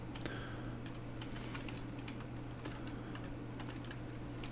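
Soft, scattered keystrokes on a computer keyboard, faint and close, tapping in irregular short runs over a low steady electrical hum.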